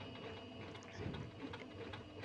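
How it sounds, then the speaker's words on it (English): A sewing machine fitted with a rolled hem foot stitches a rolled hem, giving off a continuous, fairly quiet mechanical whirring and ticking with no pauses. "once you start stitching, the machine automatically takes the fabric inside and gives you a rolled hem stitch"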